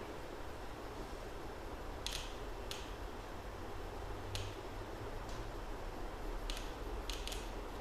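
Faint, sharp ticks of a fuel injector repeat irregularly over a steady hum of a running engine, small metallic clicks close by.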